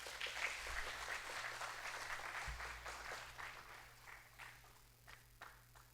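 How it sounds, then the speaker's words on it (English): Warm audience applause fills an indoor hall at an evening presentation, dense clapping from a sizeable crowd that starts strong and gradually thins and fades over several seconds. "please join me in welcoming Sir with a warm applause"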